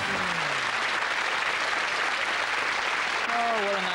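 Audience applause at a television magic show, a steady broad clapping that carries on throughout while someone speaks over it near the end.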